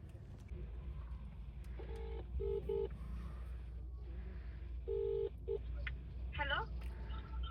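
Several short electronic tones from a phone keypad being dialed, in quick clusters over low background rumble and faint indistinct voices.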